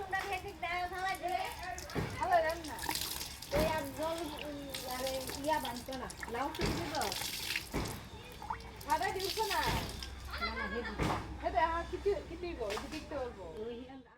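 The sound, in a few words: washing clothes by hand in water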